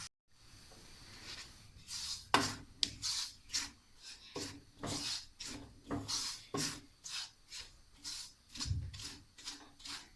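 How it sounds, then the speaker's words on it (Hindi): A spoon stirs food roasting in a pan for sweet rolls, making repeated close scraping strokes in a steady rhythm, with no talk. "चम्मच हम सलसल चलाते रहेंगे, क्योंकि हमने इसे छोड़ा तो ये थोड़ी सुरख हो जाएगी"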